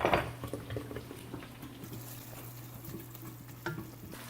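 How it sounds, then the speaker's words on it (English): A spoon scrapes and stirs a tomato-onion sauce with vegetables in a frying pan for a Ghana cabbage stew, quiet sizzling under soft clinks and a few sharper knocks against the pan. "Stir it in here, mix it, and let it also cook with this sauce."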